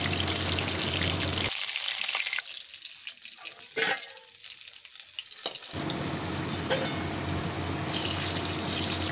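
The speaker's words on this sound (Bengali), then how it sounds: "তুলে এরকম হালকা করে ভেজে নামিয়ে নেব" Hilsa fish frying in oil in a pan, with a loud steady sizzle that briefly cuts out during a quieter stretch with a short clatter before the hissing fry resumes, close and without talking.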